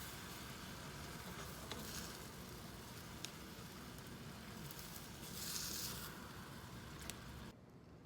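Vegetarian pad thai is stir-fried in a pan and tossed with sauce, giving a quiet, steady sizzle broken by stirring scrapes and soft pattering.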